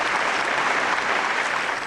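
A large audience at a Hindi kavi sammelan claps in a dense, even burst of applause that stays loud and steady throughout.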